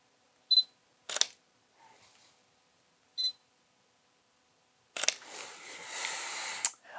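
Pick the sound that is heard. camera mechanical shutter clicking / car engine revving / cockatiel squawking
camera mechanical shutter clicking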